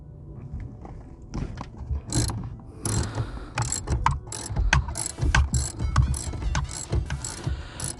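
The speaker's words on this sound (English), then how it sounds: "Take your socket and wrench and bring it towards the back seat." A socket wrench ratchets on the front seat bolts of a Scion xB, giving close, loud bursts of quick metallic clicking in irregular strokes, with no voices.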